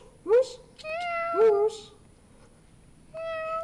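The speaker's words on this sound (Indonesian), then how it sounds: "Tuh, itu kucing Angel, bukan hantu" A cat meows three times, close and clear, each call a short rising-falling cry with quiet gaps between them and no talking over it.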